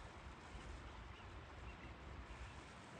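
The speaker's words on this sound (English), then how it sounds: "you can just hear water running everywhere" Water rushes steadily from a breach in the Llangollen Canal near Whitchurch, a broad, continuous wash of flowing water mixed with outdoor wind noise, no voices.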